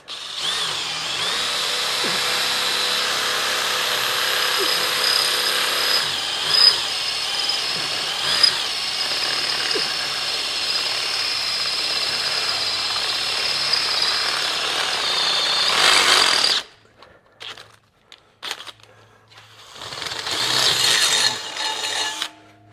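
A HERCULES drill bit in a power drill bores into metal, a loud steady high-pitched whine lasting about sixteen seconds, then stopping and restarting in short bursts.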